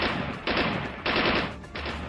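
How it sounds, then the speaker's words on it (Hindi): Bursts of rapid gunfire, three or four loud volleys in quick succession with brief gaps between them, close and harsh. "कोर्टयार्ड के एंट्रेंस से गोली चलने की आवाज आने लगी"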